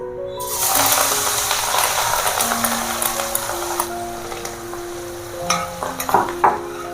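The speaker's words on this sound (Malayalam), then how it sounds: "ചിക്കൻ ഫ്രൈ ചെയ്ത എണ്ണയിൽ നമുക്കിത് മൂപ്പിച്ചെടുക്കാം എണ്ണ ചൂടായിട്ടുണ്ട്" Spices crackle and sizzle in hot oil left over from frying chicken, a dense steady frying hiss with faint stirring scrapes throughout, close and fairly loud, no voices.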